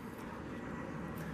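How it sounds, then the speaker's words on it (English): Steady broadband engine roar of an airplane passing overhead above the Mississippi River, continuous and fairly loud throughout the short stretch. "Sorry about the noise. There's a uh, plane going by here."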